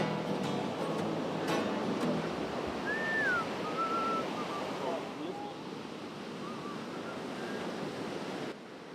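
Wind and surf at a beach, a steady broadband rush of waves and gusting air with a few faint whistling tones drifting over it, loud and continuous throughout.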